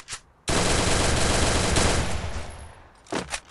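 A rapid burst of automatic gunfire in the video game Free Fire, loud and close, rattling continuously for about two seconds before tapering off, followed by a few brief trailing shots.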